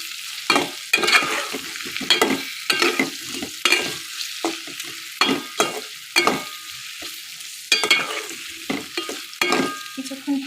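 Amra (hog plum) pickle with red chili powder and salt fries in a pan, the spatula scraping and clacking in repeated strokes over a bright, steady sizzle, close and fairly loud with no voices.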